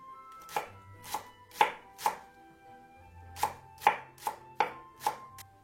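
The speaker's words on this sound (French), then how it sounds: "Pour l'émincer, je le tiens bien resserré." Knife mincing spring onions on a cutting board: nine crisp, evenly spaced chops in two runs with a short pause between, close and clear with no voices.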